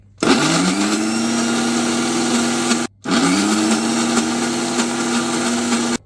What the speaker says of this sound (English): These are Indian blender, because I don't like the blender that I can see here.